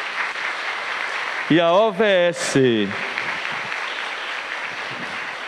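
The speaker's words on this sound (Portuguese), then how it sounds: "nossa acolhida, nossas palmas para os vicentinos" A church congregation applauds during a novena night for a town's patron saint, steady dense clapping filling the space while a voice speaks briefly over it midway.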